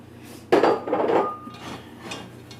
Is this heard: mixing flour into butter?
yes